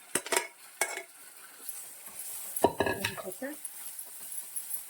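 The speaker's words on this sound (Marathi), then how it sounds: "मी हे पूर्ण सारण फिरवून घेते" Moong dal filling stirred in a pan, with a spoon scraping and clinking against the metal in a few sharp bursts, then softer stirring and light sizzling close by.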